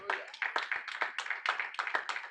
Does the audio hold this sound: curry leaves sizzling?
no